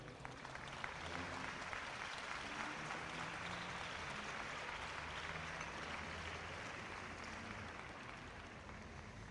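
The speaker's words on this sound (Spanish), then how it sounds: "Denle un aplauso al Señor." Church congregation applauding during an Argentine evangelical sermon, a dense, steady wash of many hands clapping that fills the space from start to finish with no pauses.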